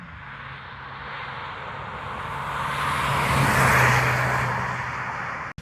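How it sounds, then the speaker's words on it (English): A Mitsubishi ASX crossover driving along a road, with a steady engine and road rumble that swells to a peak in the middle, eases back down, and then cuts off abruptly at the end. "let's take it further down the road and let's drive the car"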